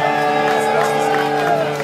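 A concert crowd at an outdoor park festival cheers and applauds in a short, dense, loud burst of clapping and whoops.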